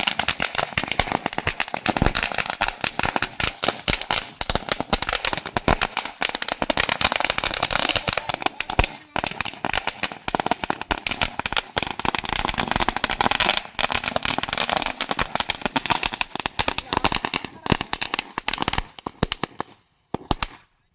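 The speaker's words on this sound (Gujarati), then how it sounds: "મૂકી દીધા ફટાકડાની લડી" A long string of firecrackers bursts continuously at a welcome for arriving guests, a dense, loud crackle of rapid pops running for about twenty seconds before stopping abruptly near the end.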